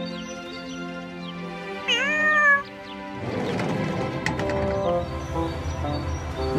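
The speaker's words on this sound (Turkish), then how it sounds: "Bu da küçük bir kedi." A small cartoon kitten meows in an animated children's show about talking cars, a single rising, fairly loud cry over a soft musical background, followed by busier background sound.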